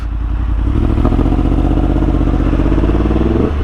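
A motorcycle pulls away on a hill start after the front brake is released, its engine loud and close with a steady throbbing idle that rises slightly in pitch as it moves off.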